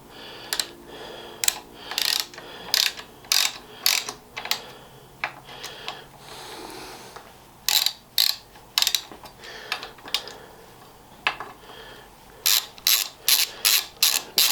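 Short ratchet clicks in quick bursts while the bolts on a set of cow horn bicycle handlebars are nipped up, loud near clicking runs separated by quiet pauses.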